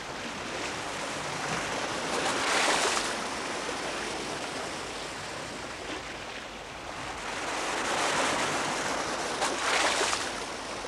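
Ocean bow waves off a sailing ship near the equatorial islands west of South America make a steady broadband rushing wash that swells twice and then eases, with no voices.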